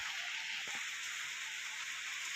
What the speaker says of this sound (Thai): ฝนตกตลอดนะครับ